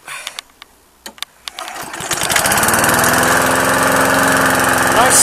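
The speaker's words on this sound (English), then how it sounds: "that's just starting my lawnmower in the winter again" Lawnmower engine starting on a cold winter day: a few brief pull-cord tugs and sputters, then it catches and settles into a steady, loud, close idle with no talking.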